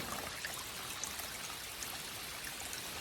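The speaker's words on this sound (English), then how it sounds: "Here on this piddling little stream." A small stream on the Chattooga River Trail trickles and burbles continuously, a steady close rush of flowing water with no other sounds.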